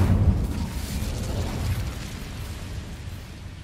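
A fiery burst from an Incendio fire spell cast in the Hogwarts Legacy video game: a loud, deep whoosh opening sharply, then a sustained roaring rumble that slowly fades, with no voices.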